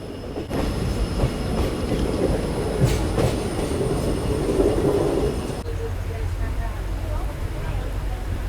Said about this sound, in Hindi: चलो अभी बस अपनी ट्रेन पहुंचने जा रही है रंगिया जंक्शन